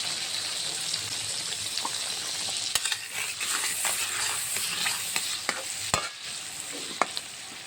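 Potatoes frying in a pan with salt, chilli powder, turmeric and a little water while a utensil stirs them, giving a steady close sizzle with repeated sharp scraping clicks, and no talking.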